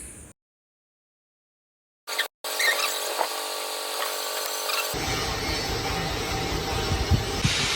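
A glass-edge polishing machine grinding the sharp sides of a 6mm glass sheet in a glass shop, a continuous whining, scraping grind that starts after a brief silence and deepens into a rougher rumble partway through.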